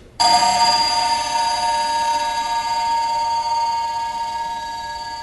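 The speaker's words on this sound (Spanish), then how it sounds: "Todos estos son los sonidos que salen de un gong" A sustained metallic ringing tone that starts abruptly and hangs on with shimmering overtones, slowly fading, like a gong drawn out unnaturally long.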